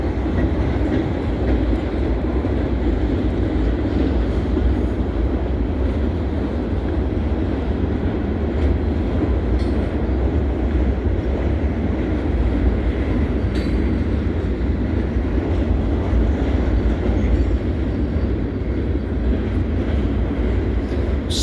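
A CSX freight train rolls past on the Delair Bridge, a loud, steady rumble of wagons and rails that holds unbroken from start to finish, with no talk over it.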